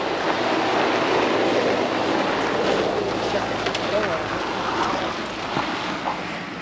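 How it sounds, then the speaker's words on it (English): A Sea-Doo Switch mini pontoon boat out on the water in the Florida Keys, heard as a steady broadband wash of motor and water noise close by, with a voice talking briefly over it. "Here comes with the itty bitty boat."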